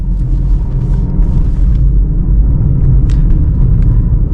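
A car is driven in third gear during a driving lesson, its engine a steady, loud low rumble with constant road drone and no speech over it.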